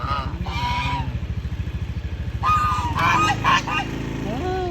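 Geese honk repeatedly in close, rapid bursts, with a low engine-like rumble running underneath throughout.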